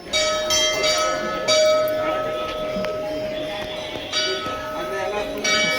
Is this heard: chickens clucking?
no